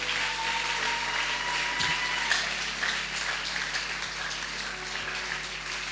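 A church congregation applauds to acclaim the Lord, dense continuous clapping, fairly loud and steady throughout, with a faint tone and low hum underneath.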